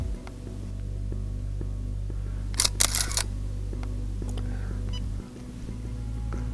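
A Phase One IQ260 digital back on a camera fires a test shot: a pair of sharp mechanical clicks from the shutter opening and closing, close and crisp over a steady low electrical hum.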